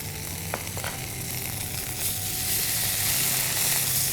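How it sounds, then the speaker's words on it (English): Ginger garlic paste and curry spices frying in a pan, giving a continuous loud sizzle and hiss with a few faint stirring scrapes near the start. "Now this seems nice and fried"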